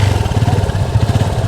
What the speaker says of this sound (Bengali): এক্সজস্টের সাউন্ডটা আপনাদেরকে একটু শোনানো দরকার।